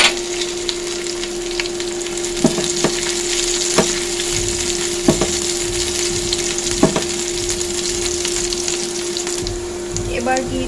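Chopped green chilies frying in oil with cauliflower, potato and tomato, a steady loud sizzle with a few sharp clinks of a spatula against the pan.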